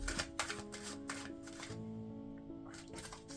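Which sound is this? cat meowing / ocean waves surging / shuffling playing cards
shuffling playing cards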